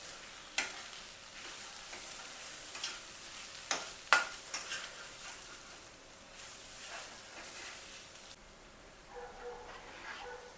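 Paneer tikka masala sautéing with garam masala and spices in a pan, a soft steady sizzle broken by scattered scrapes and sharp clinks of a spoon stirring, fairly quiet throughout with no talking.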